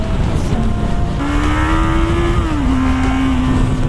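Kawasaki Z800 motorcycle on its stock exhaust, engine held at a steady rev and then rising, a loud, raspy drone close by with a rising whine, no speech.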